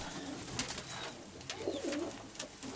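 A pigeon coos softly nearby, a short rolling call rising and falling over faint background noise.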